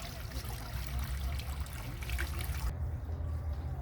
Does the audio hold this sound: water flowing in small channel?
yes